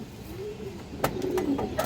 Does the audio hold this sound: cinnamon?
no